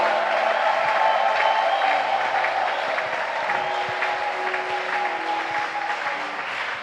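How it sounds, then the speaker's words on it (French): A congregation at a church service breaks into sustained, loud applause, a dense wash of clapping with some crowd voices mixed in that slowly eases. "Acclame pour la gloire de Dieu."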